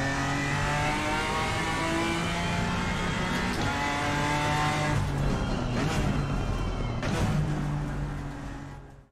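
A race car engine in the iRacing sim game revs steadily and loudly with a strong harmonic drone, rising and shifting pitch through the run before fading out at the end, no talk.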